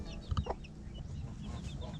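A hen, a former battery hen kept in a backyard flock, clucks in a few short, close bursts over a low, rumbling background. No one speaks.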